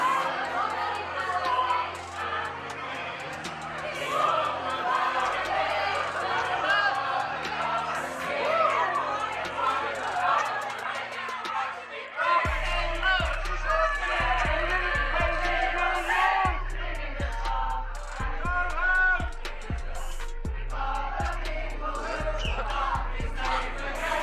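A crowd of climate protesters fills the air with dense chatter, shouts and whoops, voices overlapping close and far, while a low rumbling pulse joins in halfway through.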